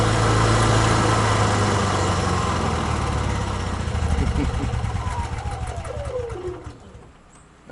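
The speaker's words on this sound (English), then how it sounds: "so we can turn the generator off." A home backup generator engine drones steadily and loudly, then winds down as it is switched off, its hum fading out over the last seconds while a person talks over it.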